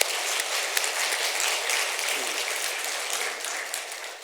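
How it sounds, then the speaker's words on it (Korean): A church congregation claps together in sustained, steady applause during a worship service, a dense wash of many hands that continues evenly without pause for several seconds and fills the sanctuary. "영광 받으실 하나님께 우리 영광의 박수를 같이 한번 올려드리십시다"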